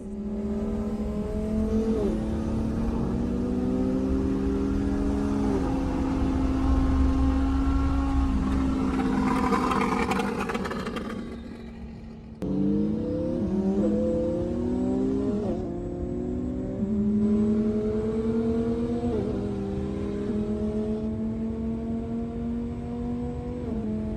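A Lamborghini in a race accelerates hard from inside the cabin, its engine climbing through rising gear pulls with sharp shift breaks, loud and continuous.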